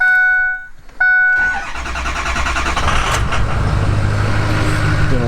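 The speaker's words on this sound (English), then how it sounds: "About to start the truck" A truck engine cranks briefly, catches on a second attempt and starts, then settles into a loud, steady idle close by.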